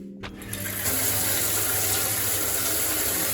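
A newly installed shower booster pump starts up with a low mechanical hum, and water rushes steadily from the shower head in a loud, continuous spray.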